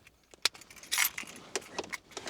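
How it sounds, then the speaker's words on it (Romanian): A car key jingles on its ring and is pushed into the ignition, a few short metallic clinks and scrapes heard close and quiet with no talk. "Acum când băgăm cheia în contact,"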